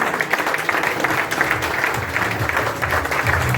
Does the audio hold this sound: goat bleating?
no